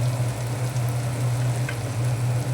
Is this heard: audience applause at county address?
no